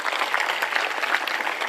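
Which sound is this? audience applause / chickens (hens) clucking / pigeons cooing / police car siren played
audience applause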